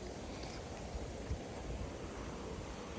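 Water of the Ramtirth waterfall rushes in a steady, broad roar, fairly distant and continuous, with gusty wind buffeting the microphone and no voices.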